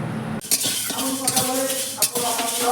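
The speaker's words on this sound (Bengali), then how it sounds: "এবার দিয়ে দিলাম এই যে মেথিটাও এরকমভাবে কিছুক্ষণ ভেজে নেব।" A spatula scrapes and clinks against a pan as dried chillies and fenugreek seeds are stir-fried for a raw mango pickle. Quick metallic taps and stirring sit over a faint sizzle.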